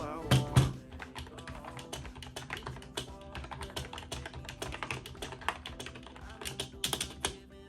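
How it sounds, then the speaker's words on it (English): Rapid soft clacking of keys on a membrane keyboard, continuous irregular typing at close range with no talking. "Next thing we have is the membrane keyboard."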